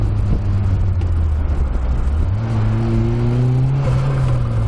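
A close, loud RX-5 250 race car engine drones steadily and then revs upward, its pitch climbing in stepped bursts with no talk over it.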